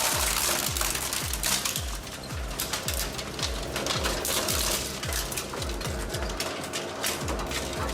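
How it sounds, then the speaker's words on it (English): German Rawmachines ZMK40 shredder with torque-driven blades slicing plastic waste: a dense, loud grinding roar with rapid repeated crunching impacts, sustained and close throughout. "Now machines like the German Rawmachines ZMK40 slice it apart with torque-driven blades."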